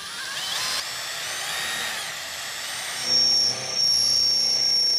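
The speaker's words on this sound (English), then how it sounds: "So we've got our drill with an 8mm bit in here" A power drill with an 8mm bit whirs and grinds close by, drilling a metal trunking lid held in a vise, its pitch shifting as it bites, with a sharp metallic whine rising near the end.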